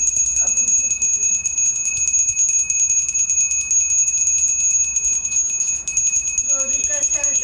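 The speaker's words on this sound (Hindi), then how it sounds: "वाजव ना घंटी. वाजव वाईट घंटी." A small hand bell rings continuously and rapidly during a Gauri puja at home, a bright, sustained metallic jingle close by, with voices joining near the end.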